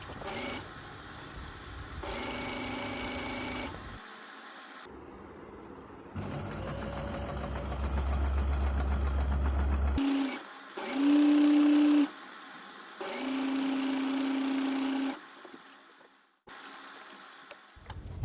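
A sewing machine stitches the folded sleeve hem of a high-low flared gathered top in several separate whirring bursts of rapid mechanical chatter, with short pauses between runs. Close, with no talking.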